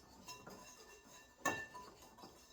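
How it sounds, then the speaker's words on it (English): A whisk stirs dry cornmeal and granulated sugar in a bowl, giving faint scraping with a few light metallic clinks against the bowl, close and quiet. "Give it a nice stir with my whisk"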